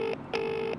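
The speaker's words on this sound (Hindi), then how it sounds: "भाई रिंग तो जा रही है" Two short beeps of a phone ringback tone, a brief tone then a longer one after a pause, steady and close, in a movie scene.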